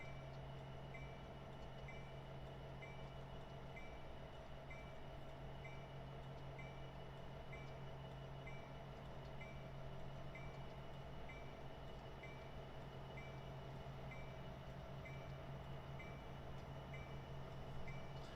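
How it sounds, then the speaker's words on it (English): A continuous low rumble and steady hum of a train rolling past at a distance on Cajon Pass, with a faint repeating tone above, and no voices. "the fact that trains are still going by"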